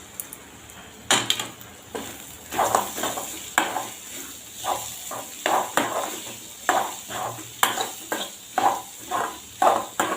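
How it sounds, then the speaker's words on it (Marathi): Onions frying in a pan with a cooked paste for a sandgyachi vadyachi rassa bhaji, with repeated sharp spatula scrapes and clanks against the pan over a low sizzle, close and fairly loud, no talking. "कांदा आपल्याला लाल छान ब्राऊन होईपर्यंत शिजवून घ्यायचा आहे"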